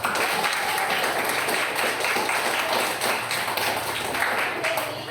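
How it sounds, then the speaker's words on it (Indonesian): Students applauding together in a classroom, a steady, dense patter of clapping hands sustained throughout at close range with faint voices mixed in. "Mari kita tepuk tangan dulu."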